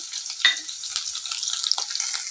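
Cumin seeds and green chilies frying in a kadai, a bright hiss with quick crackling pops and a couple of short stirring scrapes, brief and close.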